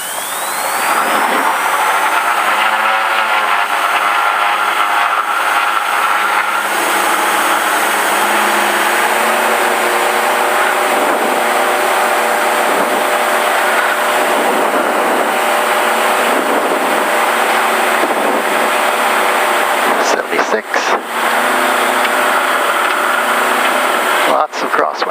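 A Diamond DA42-VI twin-engine aircraft on its takeoff roll, a loud, steady engine roar heard from inside the cabin that holds throughout, with a brief crackle of radio talk near the end.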